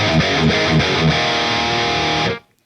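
A heavily distorted electric guitar plays thick, sustained chugging chords through an OwnHammer cabinet impulse response, loud and dense before cutting off abruptly near the end.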